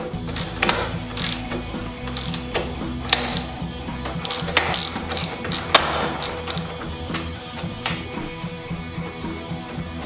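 Ratchet wrench on a 14 mm bolt while removing a Royal Enfield seat, rapid clicking pawl bursts in repeated close, moderately loud spurts with brief pauses between strokes, no talking.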